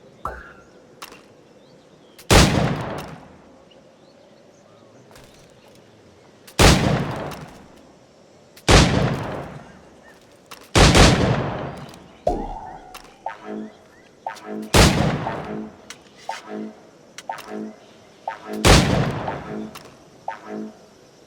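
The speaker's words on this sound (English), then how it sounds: "Try to strike every target before this hourglass empties." Gunfire in the Assassin's Creed Black Flag video game while shooting at targets against a timer: loud, separate blasts every two to three seconds, each trailing off, with quieter game sounds between them.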